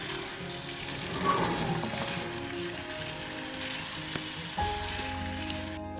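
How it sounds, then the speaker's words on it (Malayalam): Fried chicken pieces drop into a sizzling chicken tikka biryani masala, a steady loud frying hiss with stirring and a brief clatter near the end, no talk. "നമ്മൾ ആദ്യം ഫ്രൈ ചെയ്ത് വെച്ചിരുന്ന ചിക്കൻ ഇതിലേക്ക് ആഡ് ചെയ്ത് കൊടുക്കാം"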